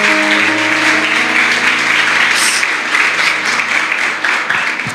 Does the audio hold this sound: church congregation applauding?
yes